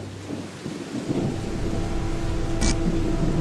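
Heavy rain hisses steadily in a metroidvania video game, while a deep rolling thunder rumble builds underneath, loud and continuous.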